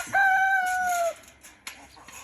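A rooster crows once, loud and close, followed by a few soft hen clucks and scratchy noises in a chicken coop.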